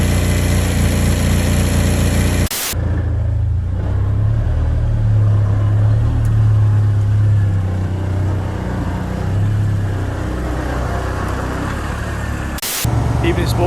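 A Honda Civic Type R BTCC track car's engine drones and revs loudly and steadily on a dyno under constant broadband roar, with brief cut-outs near the start and end.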